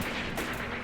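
A Soviet unit opens fire on command in the WWII tactics game Graviteam Tactics: Mius Front. A short, loud, rumbling burst of heavy gunfire fills the moment, with no talk.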